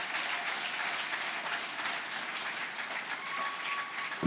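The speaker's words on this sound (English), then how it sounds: "A round of applause for Mr. P1 again" Steady, dense applause fills a panel session at The Roundtable Lekki, a continuous wash of many hands clapping at moderate distance without a break.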